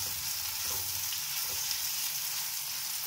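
Ground coriander, chili powder and turmeric fry in a pan for a spiced potato filling, giving a steady close sizzle with faint stirring scrapes and no speech.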